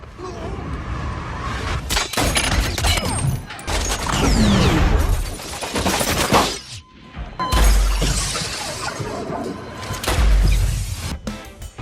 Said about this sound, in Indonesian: baku tembak di antara keduanya tidak bisa dihalangi